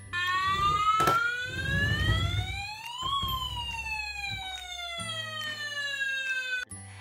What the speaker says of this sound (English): Fire trucks also have sirens,